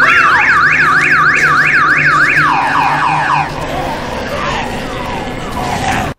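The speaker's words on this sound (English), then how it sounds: "this extremely loud car alarm has been going for some time" Extremely loud car alarm going off close by, a fast warbling tone that sweeps up and down repeatedly, then shifts to a different pulsing pattern over a busy background.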